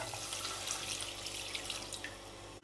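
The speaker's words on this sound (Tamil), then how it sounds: "இதில் 1/2 கப்பு தண்ணி சேர்த்துக்கிறேன்." Half a cup of water pours steadily into a pan while cooking lotus seed gravy, a continuous close splashing rush that runs alone without speech.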